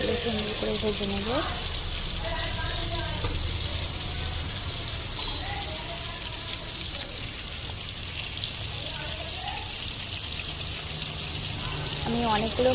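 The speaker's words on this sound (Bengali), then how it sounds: "মাছগুলো সুন্দর করে ভেজে নেব।" Lote fish frying in hot oil, a continuous bright sizzle and crackle filling the whole stretch at steady strength, with brief faint voice fragments underneath.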